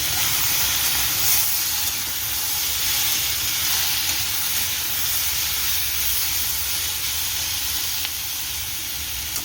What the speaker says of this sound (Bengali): এখানে ভাজছি আলু।